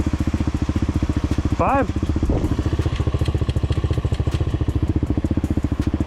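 A cheap 250cc EFI dirt bike engine runs close by with a fast, even thumping pulse while the rider tries to shift gears. It dips briefly as a voice calls out a single word.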